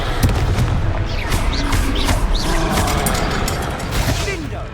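A Confringo explosion spell in Hogwarts Legacy, cast during a troll fight: loud, rumbling magical blasts and booming impacts fill the scene continuously, with shouted voices mixed in.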